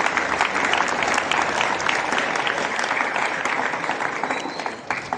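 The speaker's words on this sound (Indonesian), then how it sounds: "Boleh tepuk tangan untuk kita semua, boleh?" Students give sustained, dense applause at a school flag ceremony at SMAN 46 Jakarta, a steady wash of many hands clapping throughout that eases slightly near the end.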